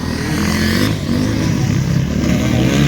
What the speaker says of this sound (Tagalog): Grabe layat ka motor ni Dexter Losada